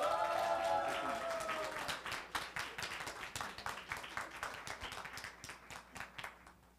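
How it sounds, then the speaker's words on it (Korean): An audience at a youth church service applauds a newly introduced department leader, a dense burst of clapping that gradually thins into scattered, quieter claps as it fades out. "열렬한 박수로 부탁을 드리겠습니다."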